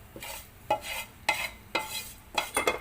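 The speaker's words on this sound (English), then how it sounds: "just give a good mix" Semolina idli batter stirred in a pot, with a spoon scraping in a steady rhythm of about five close, distinct strokes against the pan, no voices.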